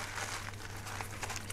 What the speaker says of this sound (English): So I'm squeezing the pot to try to loosen it up a little bit.